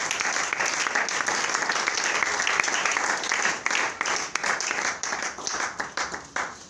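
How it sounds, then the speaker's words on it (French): A church congregation claps and applauds steadily at a Sunday service, dense crowd clapping with rhythmic swells, while a voice speaks over it. "Acclame ton Dieu ce matin"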